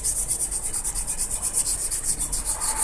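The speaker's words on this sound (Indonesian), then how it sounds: "kita amplas terus sampai rata ya sampai benar-benar keraknya ini karatnya ini bersih" Rhythmic back-and-forth sanding of rust off stainless steel with sandpaper, a steady scratchy rasp repeating about four strokes per second, close and continuous.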